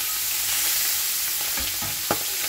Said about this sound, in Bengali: দিয়ে দিলাম মাছগুলো, মাথাটাও দিয়ে দিলাম। সুন্দর করে আমি ভেজে নেবো মাছগুলো।